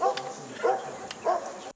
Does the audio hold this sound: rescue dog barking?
yes